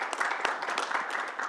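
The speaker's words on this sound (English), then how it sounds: "please give them a round of applause" A debate audience claps for both teams in a brief, steady burst of dense applause that fills the room.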